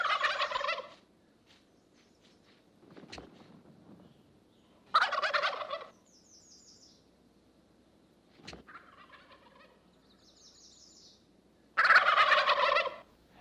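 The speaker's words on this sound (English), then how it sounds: "Their loud, characteristic gobbling carries across the hollows." Three loud, rattling gobbles from wild turkeys in springtime Shenandoah hollows at regular intervals, with fainter calls and quiet stretches between them.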